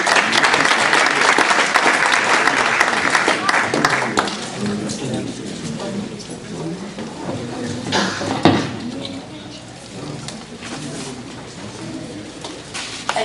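Applause from a school board meeting audience honoring students, loud clapping at first that thins out and fades into scattered claps and murmuring voices.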